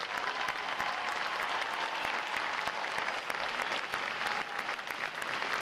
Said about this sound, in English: I want to give you a round of applause for family and friends who have supported your sailors